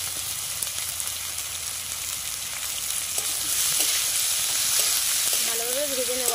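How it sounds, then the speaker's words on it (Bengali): Thin-sliced potatoes frying in a pan for a village-style onion-greens and fish dish, giving a steady broadband sizzle throughout with occasional stirring scrapes and clinks, growing a little louder in the second half. "তা আলুটা একটু ভাজা ভাজা করে নেব"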